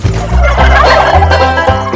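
Loud, close turkeys gobble in rapid, bubbling bursts, several birds overlapping for a couple of seconds.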